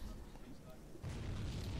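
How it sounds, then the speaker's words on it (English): A distant explosion rumbles with a sudden low boom partway through, swelling into a sustained roar, faint and muffled. "I just heard an explosion."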